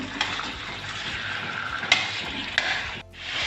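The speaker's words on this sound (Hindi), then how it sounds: "मीडियम फ्लेम पे मैं इसको फ्राई कर रही हूँ" Mutton pieces fry in plain oil over a medium flame, a continuous bubbling sizzle punctuated by a couple of sharp utensil knocks, then a brief dip before the frying resumes.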